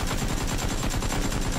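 Rapid, dense gunfire from a PUBG match, a continuous rattle of shots blending into one another at steady loudness for a brief burst.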